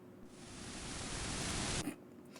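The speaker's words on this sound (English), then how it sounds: "Nice white noise there." White noise sound effect played in a game-show style segment, a loud steady hiss lasting about a second and a half before cutting off abruptly, alone without talk.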